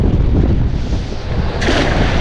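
Strong wind roars and buffets against the microphone beside a mangrove shore on the water, a loud, continuous broadband rush that swells slightly near the end.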